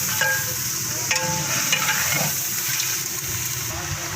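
Chicken karahi masala fries in a pot while it is stirred, a steady sizzling hiss with scraping and clinking spoon strokes, close and moderately loud.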